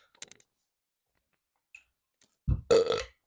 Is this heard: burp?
yes